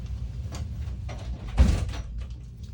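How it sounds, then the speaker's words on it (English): An art studio door pulled shut, a single muffled thud with a brief rattle over a low room hum, close by and alone. "Let me close my art studio door."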